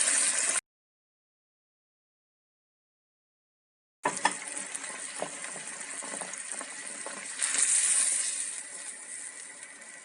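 Chicken stock pours steadily into a pot with a broad, rushing splash that swells briefly near the end, following a short silent gap.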